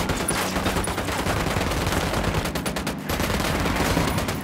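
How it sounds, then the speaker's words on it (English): Sustained machine gun fire in Ghost Recon Wildlands, a dense, loud stream of rapid shots rattling on without pause, mixed with battle noise and no talk. "Firing!"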